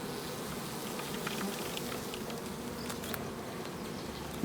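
Honeybees buzzing around a beehive that had black disease, a faint, continuous hum of many insects with occasional closer passes, outdoors and without speech.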